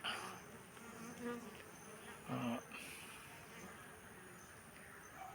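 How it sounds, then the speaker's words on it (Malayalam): Honey bees moving in and out of a wooden beehive fitted with supers, their buzzing a steady, fairly faint drone with a few louder passes close by. "താഴെയും ഇതുപോലെ ഈച്ചകൾ കയറുകയും ഇറങ്ങുകയും ചെയ്യുന്നുണ്ട്"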